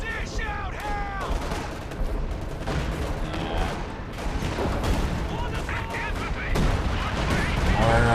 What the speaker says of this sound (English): Our artillery.